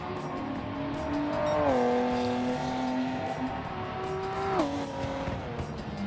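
A video game 1991 Mitsubishi GTO twin turbo engine drones loudly and steadily, its pitch dropping sharply twice as the gears shift, with a faint tire squeal mixed in.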